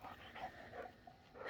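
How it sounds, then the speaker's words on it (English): A dog named Matilda pants and gives faint whimpers outdoors on a fence line walk, soft breathy rhythmic huffs with thin whines, quiet and fairly close against steady background noise. "That is my mom's dog, Matilda."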